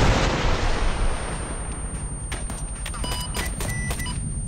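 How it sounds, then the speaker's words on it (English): An AT-4 rocket launcher firing and its rocket exploding in the Arma III military simulation game: a loud, booming blast rolls off and decays, followed by scattered sharp cracks and pops of distant gunfire. "Hey, I'm hitting it with my AT-4."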